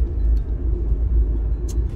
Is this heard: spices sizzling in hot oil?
no